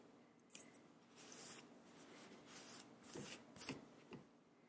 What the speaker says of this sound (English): This is where you just need to be really careful with the scissors and patient.